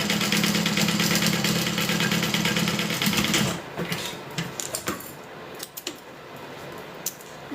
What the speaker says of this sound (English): I want to sew the top of this together just to kind of close it